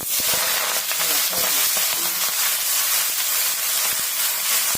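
Washed greens sautéing in hot oil with urad dal, a loud, close, continuous sizzling hiss with crackling pops throughout, no voices.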